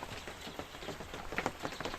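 Steady rain patters on a surface close by during a fishing trip on the Southern Bug river, a dense continuous drumming of drops with no voices.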